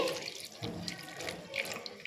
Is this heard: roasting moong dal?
no